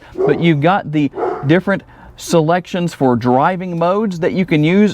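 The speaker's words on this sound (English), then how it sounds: "I apologize for that barking dog in the background" A dog barks outdoors in a public street setting, sharp yips and barks running under someone talking close up.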